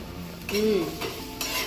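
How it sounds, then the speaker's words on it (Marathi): Cooked rajma being tempered in a pan, with a quick scrape of a spoon and a burst of sizzling, close and brief with no voices. "राजमाला तडका देत आहे, म्हणजे फोडणी घालत आहे राजमा."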